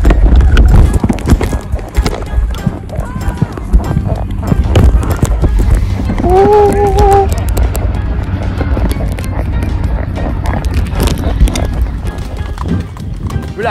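A horse's hooves clip-clop steadily during a horseback ride in Jamaica, with a neigh partway through, while people talk and call out encouragement over the ride.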